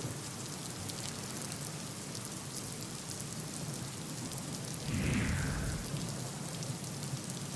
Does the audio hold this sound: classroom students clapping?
no